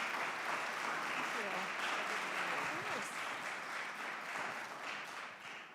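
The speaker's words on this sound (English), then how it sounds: "can you all please, a round of applause for Harmeet Dillon" Sustained audience applause at the CPAC Women Warriors Summit for a guest speaker, a dense, steady roar of many hands from a large crowd that fades slightly toward the end.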